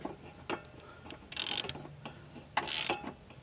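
A ratchet tightens 10mm bolts on the crank pulley of a 2014 Dodge Journey AWD SXT, giving short bursts of quick, close clicking separated by pauses, with faint tool clinks between them.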